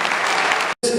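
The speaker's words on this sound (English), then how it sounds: "let's have a round of applause for these parks that do practice what they preach." Audience applause at Busch Gardens Tampa honoring the parks, a dense, loud wash of clapping that cuts out briefly near the end and then resumes.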